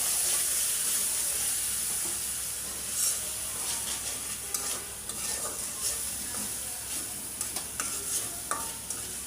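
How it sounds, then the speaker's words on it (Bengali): Green chillies and onion paste fry in a pan with a constant close hiss, while soft stirring scrapes and small ticks grow busier in the second half. "এখন কাঁচামরিচ আর পেঁয়াজ বাটা দিয়ে দিব একটু বেশি করে।"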